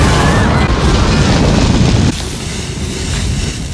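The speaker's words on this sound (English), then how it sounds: "Just simply, we can use a torch on the food." A blowtorch roars loudly and continuously as its flame is applied directly to food for wok hei, the harsh rushing hiss cutting back to a lower steady roar partway through.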